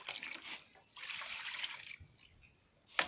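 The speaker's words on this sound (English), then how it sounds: "So I'll just add water and wash it out now." Water is added to salted catfish to wash them, giving bursts of splashing and trickling with brief pauses and a sharp splash near the end, close and fairly quiet.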